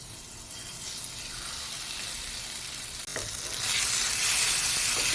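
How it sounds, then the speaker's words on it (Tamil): Marinated chicken frying in oil in a pan, a steady close sizzle that suddenly grows louder and brighter partway through, with no talking. "இப்போ நம்ம மேரினேட் பண்ணி வச்சுருக்கிறோம்ல இந்த சிக்கன், அதை வந்துட்டு இந்த எண்ணெயில் சேர்த்திக்கலாம்"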